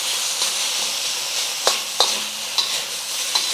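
Pork belly fries in a pan with no added oil, giving a steady close hiss and sizzle broken by a few sharp utensil scrapes and taps.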